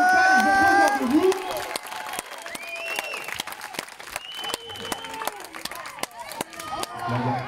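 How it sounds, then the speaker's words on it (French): A crowd claps steadily for the local team at the 2024 Zannekinfeest sports competition in Rexpoëde, with scattered cheers and a commentator talking over the applause. "Et oui, on peut les applaudir, on peut les encourager s'il vous plaît."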